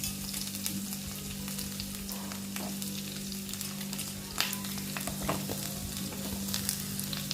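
Chopped onion and green chili sautéing in a hot pan with curry leaves, a steady close sizzle and crackle running throughout, with a few louder pops and the scrape of stirring.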